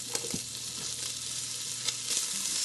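Lots of onions with a little butter sizzle steadily in a pan for spaghetti, a loud continuous hiss with a few soft stirring clicks and no talk.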